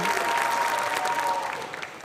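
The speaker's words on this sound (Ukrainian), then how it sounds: "Оплески." A studio audience at a television game show applauds in a short, even round of clapping at moderate volume that softens slightly toward the end.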